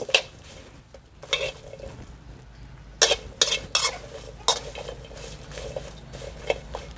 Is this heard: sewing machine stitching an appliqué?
no